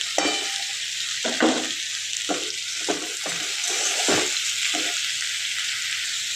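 Salted potatoes being stirred while they fry in a pan produce a loud, continuous sizzle. About seven distinct scraping spatula strokes cut through it at a fairly even pace.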